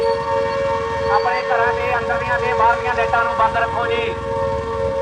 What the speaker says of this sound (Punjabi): ਇਹ ਸਾਇਰਨ ਤੁਸੀਂ ਜੋ ਸੁਣ ਰਹੇ ਹੋ